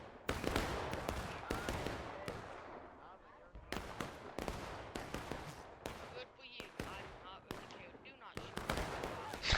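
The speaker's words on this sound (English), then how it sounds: "Union artillery shooting over." Union artillery in an American Civil War video game, booming cannon shots and crackling gunfire in dense repeated bursts, with voices talking over the battle.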